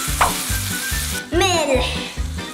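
Bread toasting in a hot pan gives a steady close sizzle with rhythmic scraping stirs, plus a brief high squeaky rubbing sound partway through; no one speaks.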